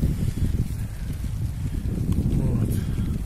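Wind blowing hard outdoors on a November day, a constant loud rumbling gust buffeting the microphone with no break.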